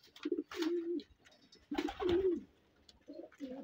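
Racing pigeons in a breeding loft coo close by in repeated low, throaty phrases, three soft rolling calls with brief pauses between them.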